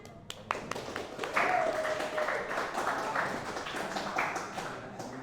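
A class during a Python programming lesson gives a light round of applause, scattered individual claps at moderate distance over a low room murmur, fairly faint overall.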